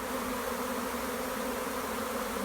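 A thick, unbroken drone of a swarm of honeybees humming together, loud and steady from start to end, with no voices.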